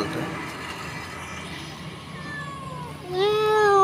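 A jungle cat by a riverside in Cumilla gives a clear, drawn-out meow near the end, preceded by a softer rising call, over low outdoor background noise with no talk.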